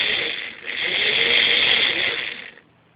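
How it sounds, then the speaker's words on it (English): A small electric motor run by a motor driver buzzes and whirs in a steady close mechanical drone for a couple of seconds, then cuts off. "those pulses aren't me doing it, that is the motor driver itself"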